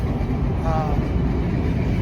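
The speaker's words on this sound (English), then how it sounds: "well, that was a short train to have 10 engines on it" A short freight train pulled by ten locomotives rumbles past a truck on the road, a steady, dense low roar throughout with a faint metallic squeal briefly rising over it.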